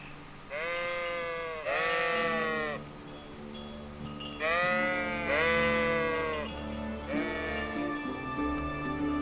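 Sheep in the video game Kingdom Come: Deliverance bleating, several drawn-out calls in overlapping pairs with short gaps, fairly close over a soft ambient background.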